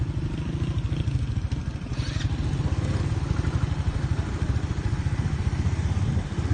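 A motorcycle engine putters steadily and nearby with a constant low chugging rhythm on a rural mountain road, without letup.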